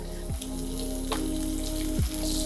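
Garlic cloves, cumin and green chillies sautéing in a pan, giving a steady, close sizzle with a faint low hum running underneath, no voices.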